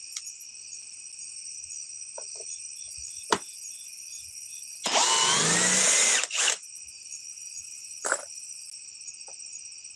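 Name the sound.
drill removing fasteners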